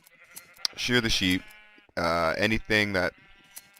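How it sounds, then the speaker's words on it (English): Sheep in the video game Minecraft bleating several times, with loud, close, wavering calls in three bursts, while someone speaks quietly underneath. "So you just stand here, shear the sheep"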